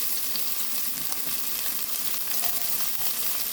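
Half an onion frying in ghee for Malabar-style ghee rice gives a steady, close crackling sizzle with soft bubbling and occasional stirring, with no voices.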